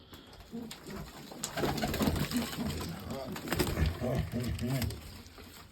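Pigeons coo repeatedly, soft throaty calls overlapping at close range, with light rustling in the background.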